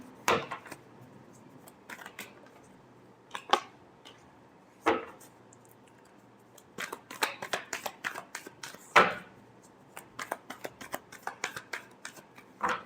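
Tarot cards shuffled by hand, producing irregular crisp riffles and sharp slaps, some bursts close together and others spaced apart, fairly soft and with no voices.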